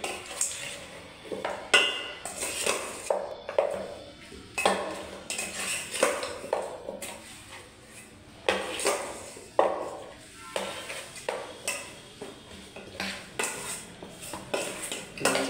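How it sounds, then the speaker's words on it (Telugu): A ladle scrapes and clinks against a pot while chicken is mixed with masala and ginger, producing repeated irregular metallic knocks and scrapes at close range with no talking. "మొత్తం మంచి కలుపుకోవాలి గంటతోటి."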